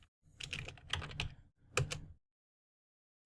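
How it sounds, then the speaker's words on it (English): Quick bursts of key clicks on a computer keyboard as an nslookup command is typed. The typing comes close and clear in two short runs with a pause between and silence after. "just type right here NSLookup facebook.com."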